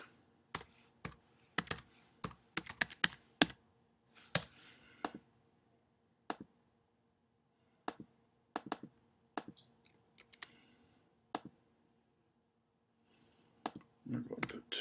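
Typing on a computer keyboard while working in a spreadsheet: scattered quiet key clicks, some in quick bursts and others single and spaced apart, with long silent gaps and a faint low hum between them.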